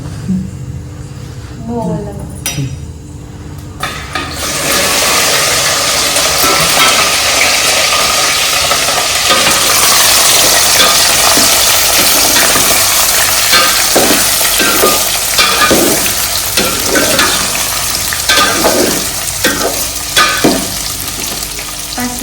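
Whole spices for a tempering hit hot oil after a few seconds of talk, setting off a loud, continuous close sizzle and crackle while a voice keeps talking over it.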